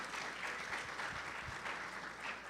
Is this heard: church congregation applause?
yes